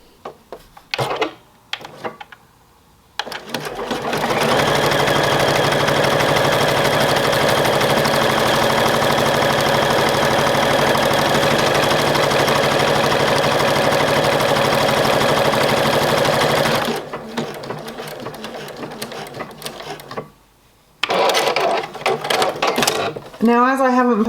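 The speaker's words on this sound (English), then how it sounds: "And let's just sew a buttonhole actually." A £1500 sewing machine stitches a buttonhole with its buttonhole foot, making a steady, fast, whirring mechanical hum for about thirteen seconds, with short bits of talk before and after.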